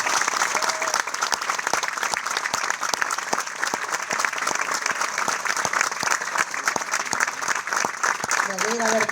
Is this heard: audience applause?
yes